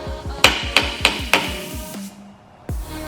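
A stuck bearing housing from the rear roller of a Scott Bonnar 20-inch Unicorn mower is tapped against a vise with a hammer, four sharp ringing metallic knocks in steady rhythm, then a fifth after a pause.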